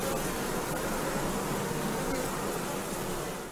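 Steady, dense buzzing of bees massed in hives at a bee therapy center in Lithuania, a continuous close drone with no talk.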